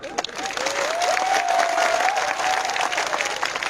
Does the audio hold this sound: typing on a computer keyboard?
no